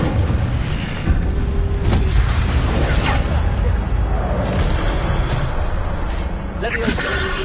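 An Incendio fire spell cast in the Hogwarts video game, with a dense booming, whooshing burst of flame and magical effects that rumbles on under players talking over it.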